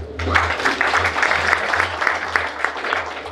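An audience claps at a property developer's lucky draw ceremony, a steady moderate burst of applause lasting a few seconds alongside a low hum.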